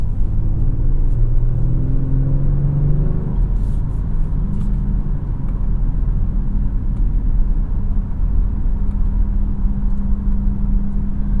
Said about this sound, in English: I don't love the sounds this car makes.